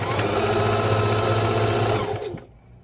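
A sewing machine stitches a pillow in a steady, close whirring run that stops abruptly near the end, leaving a quiet tail.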